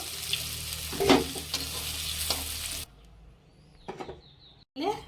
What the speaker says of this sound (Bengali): পটল ভাজা হয়ে গেছে, এবারে তুলে নেব।